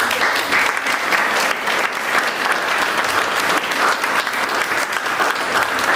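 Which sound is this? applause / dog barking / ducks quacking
applause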